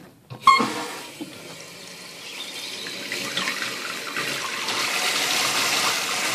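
Water rushes into a toilet tank through a newly installed fill valve, beginning with a sharp valve opening and then building into a steady, strengthening hiss and gush of close refilling water, with no talking.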